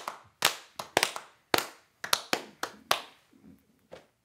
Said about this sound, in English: I just wanted to give us a huge round of applause